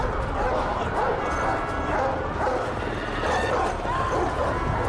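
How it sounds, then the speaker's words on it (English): Several dogs bark and yip continuously over a dense, noisy background, sounding fairly close and loud, with voices mixed in. "Yeah, they got the real dogs out there."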